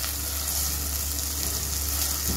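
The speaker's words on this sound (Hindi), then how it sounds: "ये देखिए अदरक लहसुन थोड़ा सा भून गया" Ginger and garlic frying in a pan for moong dal, a steady, close sizzle of hot oil that holds evenly throughout with no talk.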